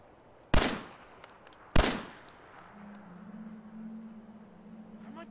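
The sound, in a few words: gunfire shooting at an enemy in the video game Fallout 4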